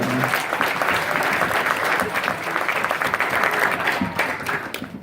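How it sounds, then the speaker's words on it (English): A youth convention audience breaks into loud, sustained applause that fills the room, dense clapping mixed with some crowd noise and cheering, then tapers slightly near the end. "Please give a round of applause for Kenny."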